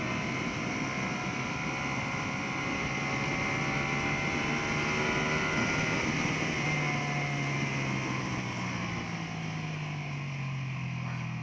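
Custom Ducati Panigale V2 with full YSS suspension lapping a race track, its engine droning steadily throughout, pitch rising and falling with gear changes over a continuous wind roar.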